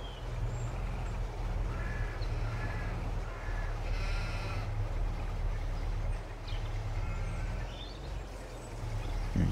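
Sheep bleating in the farming game Farming Simulator 22 on a northern farm map, several short bleats and occasional caws scattered over a steady low ambient hum, moderately distant with no speech.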